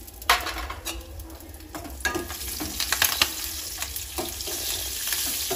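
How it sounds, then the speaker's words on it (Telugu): Mustard seeds and cumin crackle and sizzle in hot oil for a tempering, a steady close frying hiss broken by many sharp popping bursts. "చూడండి ఇలా ఫ్రై అవుతుంది"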